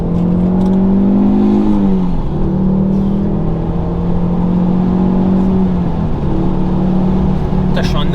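The engine of a Ford Focus ST Mk2 drones loud and close from inside the car, its pitch gliding up and down with shifts during a heel-toe downshift, steady and sustained with a brief pause near the end.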